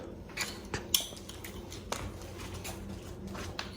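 Small metal thermal washers and lock washers clinking as they are fitted onto a bolt through a metal grill lid, with sharp light taps and jingles at irregular intervals over a low room hum.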